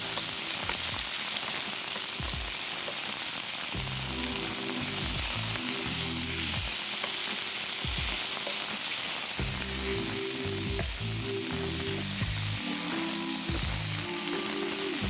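Chicken for an Italian chicken pasta fries in a pan on the stove with a steady, loud, broadband sizzle that runs the whole time, while low clunks and stirring knocks come and go in the background.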